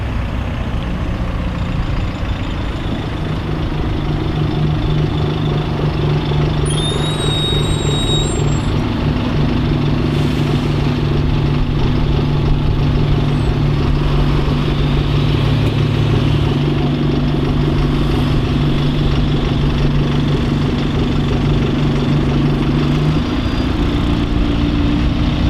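Several bus engines idle at a South East bus festival at Detling, a steady, loud low drone with a sustained hum running almost the whole time and no talking over it.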